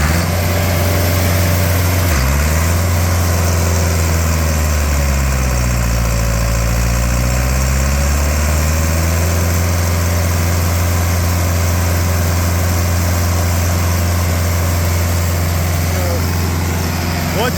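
Engine-driven water pump pressurizing a well for fracking, a loud, continuous low engine drone close by that shifts pitch and swells for a few seconds early on, then settles into a steady roar.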